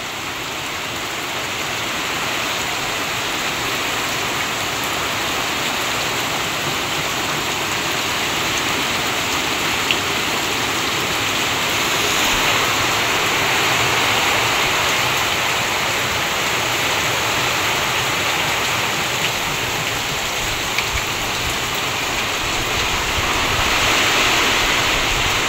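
Heavy rain pouring steadily outside a house with floodwater pooling in front, a dense continuous roar of falling water with no talk.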